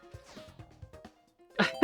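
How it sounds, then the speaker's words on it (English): A single abrupt sneeze bursts out at the end, loud and close, after a stretch of muffled, strained breathy sounds. "I had to sneeze there"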